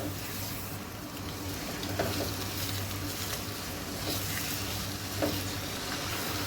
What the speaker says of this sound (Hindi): यहाँ पे चिकन को मैंने 1 से 2 मिनट के लिए हाई फ्लेम पे पका लिया है